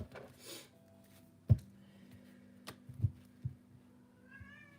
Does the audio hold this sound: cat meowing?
yes